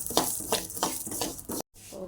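White sesame seeds roasting in a pan, with repeated scraping stirs at a steady rhythm over a soft sizzle, close up, then a brief silent cut.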